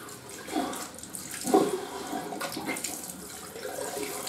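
Water splashed onto the face at a running sink after a traditional wet shave with Proraso soap, a steady wash of tap flow with a few louder splashes, close and alone.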